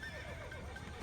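A horse in the Assassin's Creed video game lets out a quick, shrill neigh with a wavering whinny, faint and brief against a low game background.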